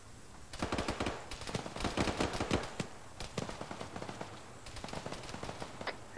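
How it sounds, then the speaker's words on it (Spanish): Rapid bursts of gunfire in a military video game, Liberation Lythium recon operation, crackling in dense volleys that trail into scattered distant shots, with no talk over them. "Oigo disparos desde eco"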